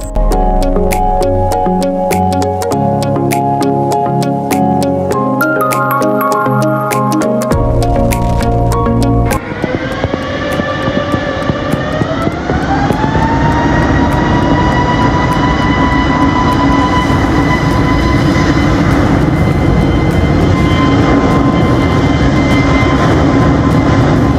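At Calicut International Airport, a passenger jet's engines build into a loud, rising whine and roar as it takes off. The sound starts after a stretch of layered tones and lasts about fifteen seconds, sustained and close.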